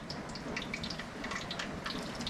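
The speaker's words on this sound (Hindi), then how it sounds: "अब हम इसमें डालेंगे एक गिलास पानी का" Water from a glass poured into pakora batter, a soft continuous splashing and trickling with bright droplet sounds, close and fairly quiet.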